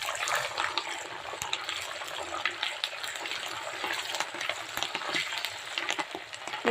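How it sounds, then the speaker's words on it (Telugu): Tempering spices with green chillies and curry leaves sizzle in hot oil for tamarind rice, a steady close crackling hiss with scattered pops and light stirring clicks throughout. "కొంచెం పోపు ఎక్కువనే వేస్తున్నాను"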